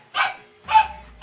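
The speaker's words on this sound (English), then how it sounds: "there goes my dog screaming" A pet dog barks twice in quick succession, loud and close, with short sharp yelps and no talk over them, heard indoors during a drawing session.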